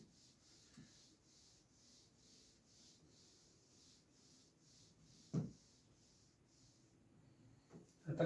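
A board rubbed clean of writing in a chemistry classroom, a soft rhythmic swishing of repeated strokes, faint and close, with a few louder knocks near the end.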